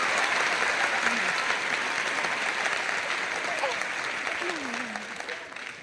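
Sustained audience applause at a stand-up comedy show, dense and even at first, then gradually thinning and fading toward the end, with scattered voices audible beneath the clapping.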